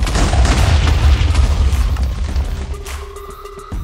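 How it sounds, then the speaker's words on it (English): Rocket launch in Minecraft with a KSP mod, a loud, close, deep roaring blast that rumbles heavily and then thins out slightly toward the end, with no voices. "So first we need to teleport into the rocket and then press this button to launch."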